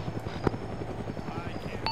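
A helicopter in the ArmA video game drones steadily throughout, its rotor thrum and engine whine forming a constant bed beneath a single sharp click.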